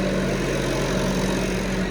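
A farm tractor's engine idles near a barn, a steady, unbroken low rumble close by with no voices over it.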